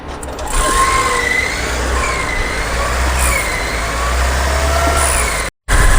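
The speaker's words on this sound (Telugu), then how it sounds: "ఈ వెహికల్ ఇంజన్ సౌండ్ అయితే చెక్ చేసుకుందాం." A loud 2000 cc Maruti Suzuki Invicto engine idles steadily with the bonnet open, running with a constant hum for several seconds before a brief cutout.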